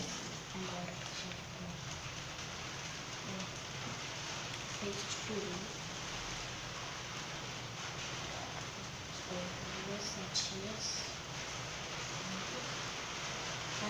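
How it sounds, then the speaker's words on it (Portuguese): Steady rain falling outside, a continuous soft hiss heard from indoors in a kitchen, running under a voice talking throughout. "Tá chovendo, é um barulho."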